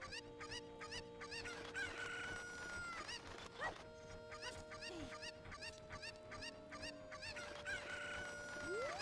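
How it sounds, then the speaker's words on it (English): Rooster crowing and chicken clucking from the video game The Legend of Zelda: Ocarina of Time, several crows in a row over steady game music, loud and close, with no talk. "pick up the chicken"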